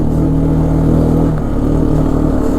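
A 2001 Arctic Cat 400 4x4 ATV in third gear, its engine droning steadily up close with a low hum and slight rising pull, running continuously with no talk.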